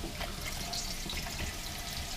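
Water runs steadily from a sink faucet fitted with an aerator in an RV, a soft even hiss and splash with no talking.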